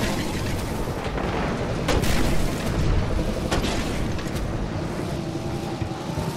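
A flash cannon fires in the video game Destiny during a weekly heroic mission, with heavy, loud booms and blasts that roll continuously, a few sharper hits standing out among the dense gunfire.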